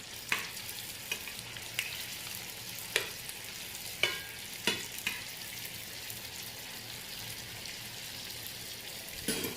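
Spring rolls deep-fry in hot oil with a constant soft sizzle, broken by a handful of sharp crackling pops spaced a second or so apart. No talking is heard.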